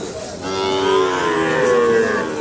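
Cattle and calves at a busy livestock market, one loud, drawn-out moo rising close by over faint background crowd noise.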